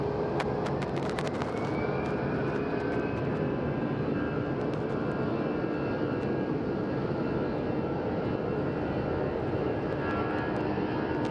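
A Boeing 737 airliner of American flight 2352 bound for Fresno takes off at Phoenix Sky Harbor Airport, a steady loud jet engine roar sustained throughout with a high whine above the broad rumble.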